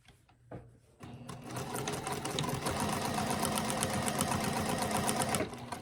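A sewing machine quilts a Christmas stocking panel with thick thread at a long 4.5 stitch length, starting after a brief tap and running in a loud, steady, rapid mechanical whir close up for about five seconds before stopping.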